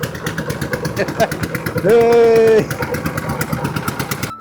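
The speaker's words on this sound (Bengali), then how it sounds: "আমার পাশে একটা নৌকা যাচ্ছে" A motorboat engine drones past on the open floodwaters of Chalan Beel in rural Bangladesh, a steady mid-pitched mechanical rumble that swells briefly, heard under a man's close, continuous talk.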